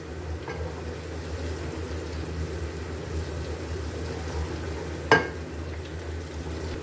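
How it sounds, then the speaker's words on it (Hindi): Crushed garlic and ginger fry in oil in a pan with a steady, even sizzle throughout and one sharp clink partway through. "1 चम्मच लहसुन अदरक कूट लिया था, वो ऐड करेंगे और इसको भी हमने फ्राई कर लेना है"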